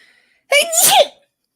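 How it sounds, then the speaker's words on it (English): One loud, sharp sneeze bursts out close to the microphone, with a quick intake before the explosive release, then silence. "Hold on, I feel a sneeze coming on."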